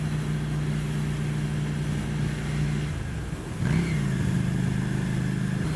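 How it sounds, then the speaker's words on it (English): A 2015 Ducati Scrambler Icon 800cc motorcycle with a Termignoni exhaust runs with a steady engine drone that dips briefly, then rises again as the revs climb, loud and close, with constant rushing wind. "this is a fun motorcycle"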